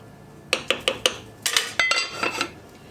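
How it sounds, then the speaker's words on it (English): A spoon stirring butter beans in a metal pot, four even clinks against the pot's side followed by a quicker cluster of scraping knocks, close and clear with no talk. "Go ahead and stir what's left into the butter beans here."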